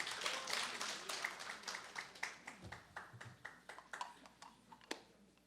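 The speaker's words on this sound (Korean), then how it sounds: "도우미에게 박수를 부탁드립니다" Scattered, fairly faint clapping from a church congregation at a New Year's Eve service, applauding a volunteer helper; irregular claps trail off over several seconds.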